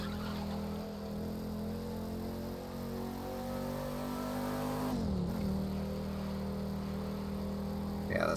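A 1967 Shelby GT500 in The Crew 2 holds a loud, steady engine drone at high revs, dips briefly as the gears shift midway, and then climbs again, with no voices over it.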